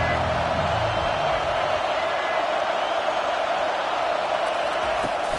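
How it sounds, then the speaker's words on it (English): Stadium crowd in the college football video game NCAA 25 roaring behind the defense on third down, a dense, steady wash of cheering noise sustained at high level. "Decibels rising as the crowd gets behind this defense on 3rd down."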